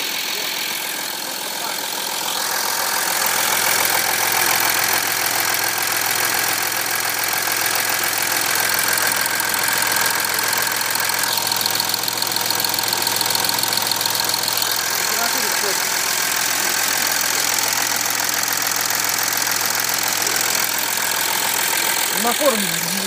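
A diesel Audi A6 3.0 TDI (ASB engine) idles steadily through a fuel-system flush, a continuous mid-loud drone with faint knocking that holds for the whole stretch, with no break or rev change.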